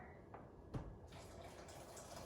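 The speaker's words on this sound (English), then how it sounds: "I'm gonna put all of this water" Water is poured into a container of sugar while sweet tea is made for kombucha, giving a faint, steady, continuous pouring wash.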